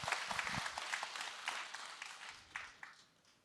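Temple audience applauding during a Buddhist dharma talk at Jogyesa marking the end of the winter retreat: a scattered, fairly quiet burst of hand clapping from a gathered crowd that tapers off within a few seconds.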